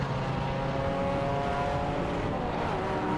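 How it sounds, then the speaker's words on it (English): An Alfa Romeo Giulietta race car pulling out of the pits at Silverstone, its engine a steady loud drone that holds constant throughout, with faint background circuit noise. "Out of the pits comes the McMahon Alfa Romeo there,"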